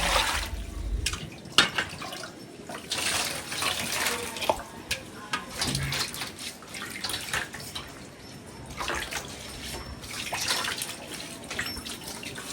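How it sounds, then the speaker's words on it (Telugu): Muddy sweet potatoes being washed under running water, with a continuous splashing, gushing flow and occasional clunks of handling, close by and fairly loud, faint talk underneath. "చిలకడ దుంపల్లో కూడా వాటర్ పోసేసుకొని"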